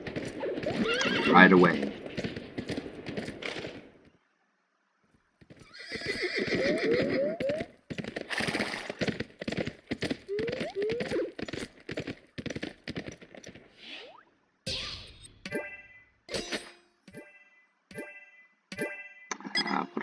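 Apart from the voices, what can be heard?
horse neighing and hooves in The Escapists 2 video game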